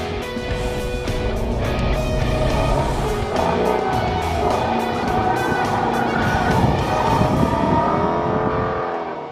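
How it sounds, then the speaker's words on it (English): A Chevrolet Camaro ZL1 and a Ford Mustang GT350R drive hard, engines roaring and revving loudly and continuously with rising and falling pitch as they accelerate, with no talk over them. "I'll be driving this ZL1, arbitrarily defending it against Zach in the GT350R"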